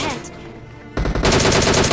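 Automatic gunfire from a battle royale video game, a quieter stretch giving way to a loud, dense burst of rapid shots in the second half.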